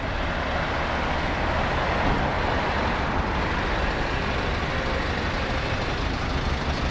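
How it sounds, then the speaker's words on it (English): Steady city street noise in Sochi in winter, dominated by the low rumble of passing buses and other heavy traffic, continuous and fairly loud without speech. "modern buses here and also some older ones knocking around in the city"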